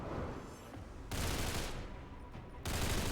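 Gunfire bursts in the XCOM 2 video game, a dense, broadband crackle of shots arriving in two or three abrupt waves that start and stop suddenly, steady and fairly loud with no voices.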